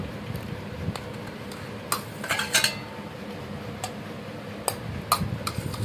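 Clinks and scrapes of a serving utensil against a metal pot and plates as a home-cooked Marathi dish is dished out, scattered light knocks over a quiet room.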